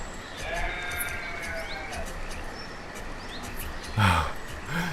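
A sheep in the video game Banished lets out a single bleat near the end, heard over steady background noise with faint chirping tones earlier on.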